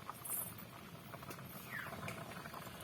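Quiet, continuous bubbling and pattering of elephant apple (chalta) boiling in a pot, soft and steady with small pops over a low background hiss.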